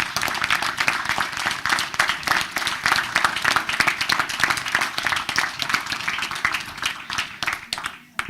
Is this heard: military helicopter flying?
no